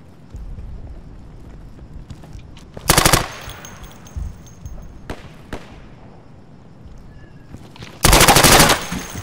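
Two loud, close bursts of rifle fire in the video game Insurgency, rattling fast, with quiet gaps and a few single shots between them.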